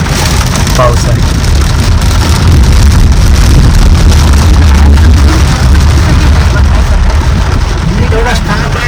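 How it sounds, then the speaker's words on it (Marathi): Heavy rain heard from inside a moving car with the sunroof open near Panvel, a dense, loud, constant rush of rain and wind with voices talking over it. "आता पाऊस जोरात सुरू झालाय"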